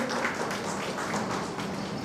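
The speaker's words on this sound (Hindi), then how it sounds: "इनके लिए एक जोरदार तालियों से स्वागत करिए।" Applause from an audience greeting a speaker at an in-house teacher training session, a dense steady wash of clapping that fills the whole stretch without any voices on top.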